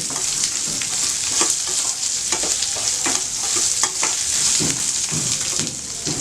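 Onion and tamarind sautéing in a pan for a ridge gourd chutney give a steady, close sizzle, with repeated scraping stirs of a spatula throughout and no talking.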